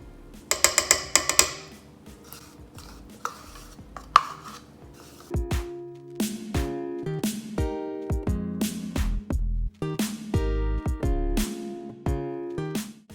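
An electric whisk whipping cream with Nutella in a bowl; a run of sharp clattering taps comes first, then the motor whirs in repeated short bursts that start and stop, moderately loud and close, with no voices.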